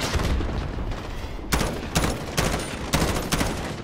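Mortar explosions and gunfire during a battle in Call of Duty Modern Warfare, with a dense, continuous barrage of booms and rapid shots and several loud blasts standing out in quick succession.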